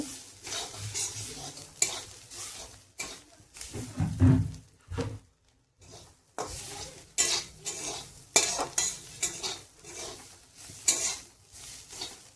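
Bitter gourd sizzles gently in a pan as a spatula stirs and scrapes it, giving irregular clattering strokes over a soft frying hiss, with a short quiet gap midway.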